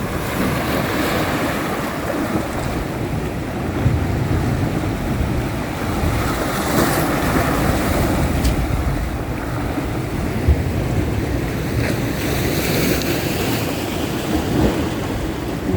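Sea waves roll onto a beach in Crete, a loud continuous surf roar with repeated swells and wash, mixed with gusts of wind buffeting the microphone and no speech.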